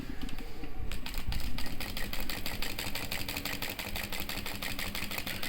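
Domestic sewing machine stitching fast with loosened thread tension and lengthened stitch, a steady rapid mechanical clatter running continuously and fairly loud throughout, with no voices.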